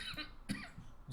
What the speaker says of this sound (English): just cough my head up real quick.